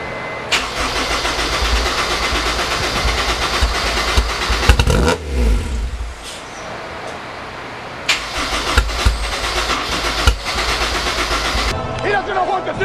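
A car engine with a new intake cranks, starts and runs, a loud throaty roar with a brief dip midway before it picks up again and keeps running close by.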